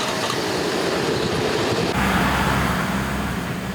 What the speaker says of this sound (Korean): 바퀴에선 알 수 없는 쇳소리까지 들립니다.